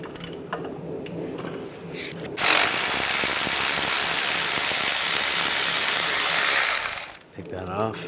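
Ratchet wrench with a 13mm socket loosening the power steering pump bolt on a Volkswagen Beetle: a close, loud, steady clicking ratchet running for about five seconds, with a few quieter mechanical sounds before and after.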